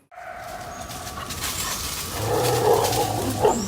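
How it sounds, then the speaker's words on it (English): A puma fights two coyotes in a front yard, with a wild, snarling animal din that builds louder through the second half, sharp yelps and barks breaking out near the end. "To her shock, it was a fight between a puma and two coyotes."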